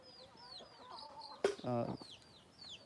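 Desi chickens and a rooster at a farm cluck quietly nearby while feeding on paddy, with one louder squawking burst in the middle and soft bird chirps behind it.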